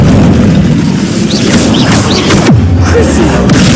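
Incendio fire spell cast in the Hogwarts Legacy video game: a loud, heavy whooshing burst with a booming low thud and a falling tone partway through, over constant dense game sound.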